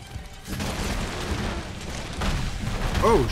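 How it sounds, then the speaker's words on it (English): Explosions from Bazelgeuse in the video game Monster Hunter World: low rumbling booms rolling in and swelling, overlapping in a dense layered bed with a brief tonal in-game cry near the end. "None of those explosions hurt me."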